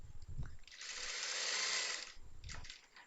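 A sewing machine stitches a seam on a churidar, running in one steady whirring burst of about a second, with shorter mechanical clicks and starts around it. The sound is close and moderately loud.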